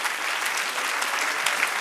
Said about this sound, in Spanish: Dale un aplauso al Señor, amén.